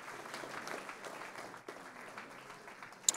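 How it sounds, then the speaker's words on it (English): Applause for freshman band students at a school board meeting, a faint, short patch of clapping from a small audience with a sharp click near the end. "One more round of applause to our freshman students who represented our region"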